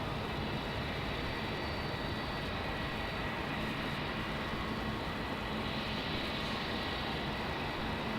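A Qatar Airways Boeing 777 at Melbourne Airport at night gives a steady, distant jet roar that holds evenly throughout, with no voices.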